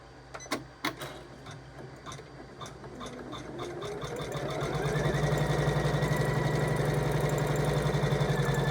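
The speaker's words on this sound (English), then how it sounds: "it's back on the machine, and now what I'm going to do is I'm going to hit the next stitch sequence" An embroidery sewing machine starts up with a few clicks, then stitches steadily at a fast even rhythm, close and loud, running around an in-the-hoop appliqué table runner to secure the backing fabric.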